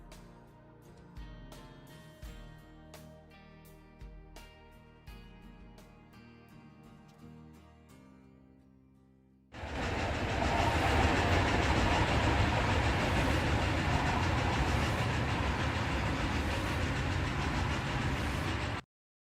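Trains run across a rail network in the Captain of Industry video game: soft tonal music plays first, then a loud, continuous rumbling roar of rolling railcars takes over for the rest.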